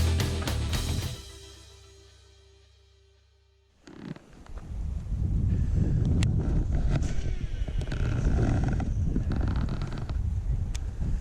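Wind gusting over a lake during a late-summer bass fishing outing, a steady loud broadband rush after a brief quieter moment with a low hum, buffeting the microphone.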